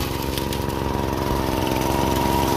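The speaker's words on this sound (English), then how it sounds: "I'm gonna feed the dry washer." An engine-powered dry washer runs steadily while being fed for gold in dry desert ground, a loud continuous motor drone with a rapid even chugging rhythm throughout.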